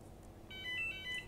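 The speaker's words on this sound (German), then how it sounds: "Warum geht jetzt bei mir das Telefon?" Telephone ringing during a truck driving game session, a short, faint electronic ringtone of a few tonal pulses over quiet background.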